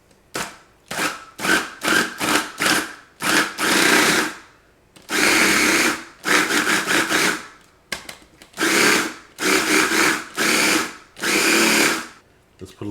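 A kitchen blender pulses in short bursts, chopping pineapple for a homemade Dole Whip, a loud whirring motor starting and stopping in a rapid rhythm with longer runs in between.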